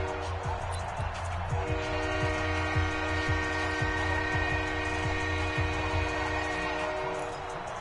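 A train horn blares continuously as a loud, sustained multi-tone chord from an NFL video game broadcast, running for the whole stretch over rumbling background noise.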